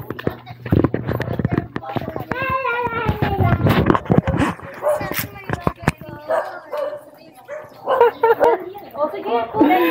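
A dog barks several times amid children chatting and talking loudly nearby, with short sharp barks standing out against the busy chatter.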